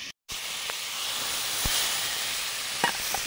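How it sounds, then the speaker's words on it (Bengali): Ridge gourd frying in a pan, a steady broadband sizzle and hiss throughout with a brief dropout near the start and a few faint clicks of stirring. "ঝিঙে ভাজা হয়ে গেছে"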